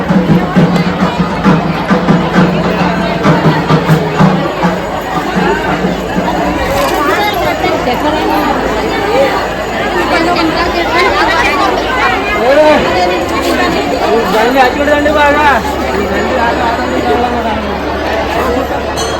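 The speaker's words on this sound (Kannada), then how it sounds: "ಇದೆ ಕ್ರೌಡು. ಇಲ್ಲಿ ಮಂಗಳವಾರ ಶುಕ್ರವಾರ ಯಾವತ್ತೂ ಬಂದ್ರೆ ಭೀ ಈ ಥರ ಇರ್ತದೆ ಕ್ರೌಡ್ ಇಲ್ಲಿ" Dense crowd chatter at the Naga Yellamma temple in Chittapur, a continuous loud babble of many overlapping voices close around, with a nearer voice speaking over it.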